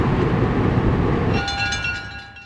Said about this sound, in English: Having now appeared from behind the roundhouse, number 70 leads the long rake of coaches to the Napa Depot.